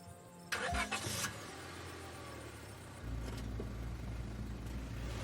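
A car engine in the game Scarlet Hollow cranks with a door-like clunk and starter whirr, then settles into a steady low idle rumble.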